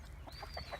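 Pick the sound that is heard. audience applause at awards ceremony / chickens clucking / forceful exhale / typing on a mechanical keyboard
chickens clucking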